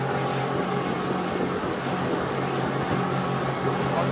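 A Patrol 760 rigid inflatable dive boat runs at full throttle, a steady loud broadband roar of outboard engine and rushing water holding constant throughout with no voices.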